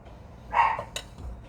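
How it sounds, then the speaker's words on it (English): A pet dog barks somewhere in a home kitchen, a single faint, distant bark-like yip followed by a short sharp noise, with no talking. "Barking up a storm."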